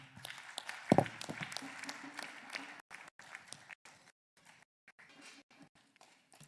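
Scattered clapping from a small audience at an architecture event, fading out over a few seconds into quiet.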